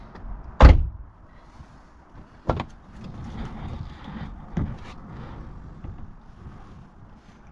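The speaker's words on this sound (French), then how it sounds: "quand on ouvre la porte" A car door opens with a sharp, close click and latch release, followed by softer handling knocks and rustles in a quiet interior, with a couple more small thumps later.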